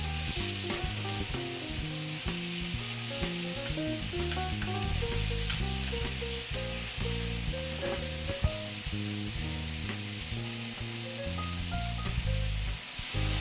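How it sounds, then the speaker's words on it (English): Seasoned steak for a Philly cheesesteak sears in a hot skillet with a steady, dense sizzle that runs the whole time. Background music plays over it, and there is no talking. "Once the skillet is heated, we can add our steak and start cooking."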